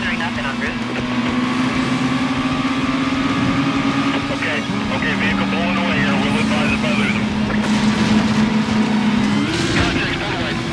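A car in Need For Speed Most Wanted (2005) pulling away, its engine droning loudly with the pitch stepping through gear shifts, heard beneath someone talking.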